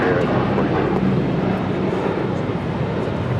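Airliner roaring down the runway on takeoff at LAX: a loud, continuous broadband jet rumble that holds steady and close the whole time, with radio voices faintly under it.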